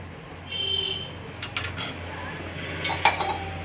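A lid is set back onto a cooking pot with a few quick metallic clinks and clatters, close by but fairly soft, amid quiet kitchen background.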